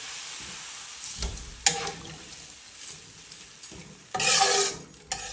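Vermicelli is stirred into whole milk in a pot with a cinnamon stick, making irregular scraping and clinking strokes of the spoon against the pot at close range, with soft bubbling in between.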